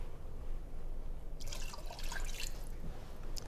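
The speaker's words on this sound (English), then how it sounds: "we'll add 2 cups of water." Water splashes and trickles into a pot for about a second and a half, a bright close pour over a low background rumble.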